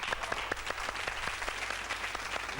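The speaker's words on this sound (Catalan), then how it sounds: "Vinga, va, aplaudiment." A television studio audience claps steadily, a dense patter of hands applauding throughout, moderately loud and without cheering.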